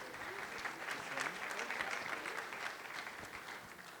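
An audience at a sustainability panel of a forum in Curitiba claps in steady applause, a dense patter of many hands lasting several seconds, moderately distant and fairly soft.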